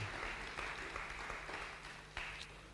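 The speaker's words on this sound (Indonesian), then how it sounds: "Beri tepuk tangan yang paling meriah buat Tuhan." A church congregation claps and applauds together, a dense, steady wash of hand-clapping heard from within the room at moderate volume.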